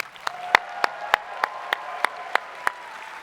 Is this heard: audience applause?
yes